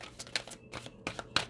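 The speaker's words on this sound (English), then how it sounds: "I'm shuffling different, and I'm using a different deck" A deck of tarot cards is shuffled in quick, soft riffling bursts, quiet and close, with brief papery flicks repeating irregularly.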